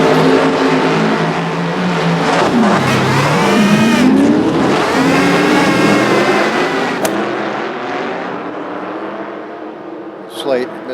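Ford Mustang engines roar and rev in a race against a Corvette and a Viper, rising and falling in pitch as the cars pass close by, then fading out, with a sharp snap near the end.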